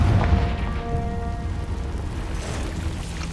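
A Confringo spell explosion in Hogwarts Legacy, a deep booming blast at the start trailing into a rumbling, crackling wash of debris and magical hum that fades over a few seconds.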